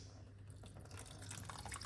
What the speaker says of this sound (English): I'm going to pour some hot water on it